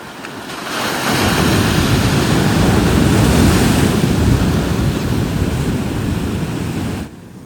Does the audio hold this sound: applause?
no